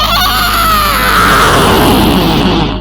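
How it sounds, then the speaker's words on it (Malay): A woman's loud, shrill scream, drawn out and piercing at very high volume for nearly three seconds, close and alone with no talk over it. "terdengar suara jeritan perempuan yang cukup keras dan nyaring"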